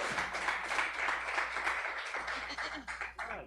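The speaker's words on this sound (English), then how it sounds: "please give a round of applause for your first comic for the night" An audience at a stand-up comedy show applauds a comedian with steady, moderately faint clapping that lasts a few seconds.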